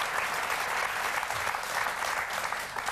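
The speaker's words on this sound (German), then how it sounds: "Wir dürfen klatschen." Dense, steady applause from a German TV talk show studio audience, a continuous wash of many hands clapping at moderate volume without distinct voices.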